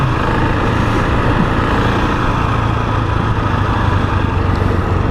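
A 2021 KTM 690 Enduro single-cylinder engine drones close and loud while riding on a gravel trail, with steady, unbroken engine noise mixed with wind rush.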